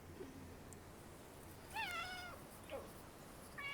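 A hungry cat meows in Greece: a few short, faint, rising-and-falling meows spaced over a few seconds against quiet background hiss.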